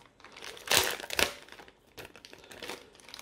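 A heat-sealed plastic zipper bag holding car parts for a PCV catch can install on a 2.0 TSI EA888 engine crinkles loudly as it is handled, with two sharp bursts of rustling and then softer crinkles.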